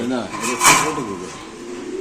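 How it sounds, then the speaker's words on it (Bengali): Giribaz pigeons coo in a series of throaty, bubbling calls close by, with a sharp clatter partway through and quiet room noise around them. "এখানে আছে ভাই দুই জোড়া কবুতর"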